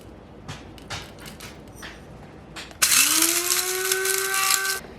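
Whole black cardamom pods ground in an electric grinder, a few light taps and rattles first, then a loud steady high whine of the motor running continuously.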